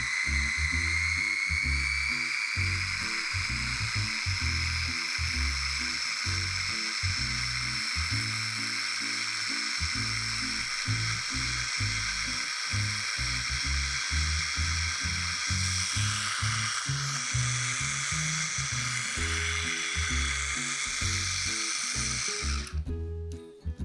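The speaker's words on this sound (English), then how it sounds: "we're going to blend until smooth" A kitchen blender runs steadily for about twenty-four seconds, puréeing food until smooth, its loud whirring motor pulsing and chopping without a pause until it cuts off at the end.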